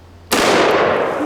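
A .500 Magnum snub-nose revolver fires a single sharp, loud shot that cracks out after brief quiet and trails off in a long, booming echo.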